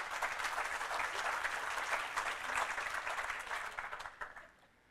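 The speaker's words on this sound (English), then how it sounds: "So you can applaud that." Audience applause fills a college in-service day gathering of staff and faculty, steady dense clapping for about four seconds before tapering off to quiet at the end.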